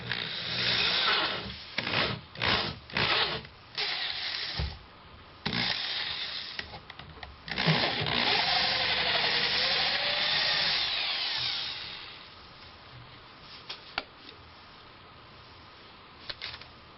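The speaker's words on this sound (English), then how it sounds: "I'm just going to use a 2-inch drill bit, just centered right here, and first I'm just going to cut the drywall." A power drill fitted with a 2-inch bit cuts through drywall in several short bursts, then runs in a long continuous grinding stretch before stopping, with a few faint clicks afterward.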